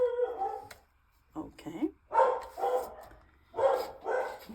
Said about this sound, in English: It was just my dogs.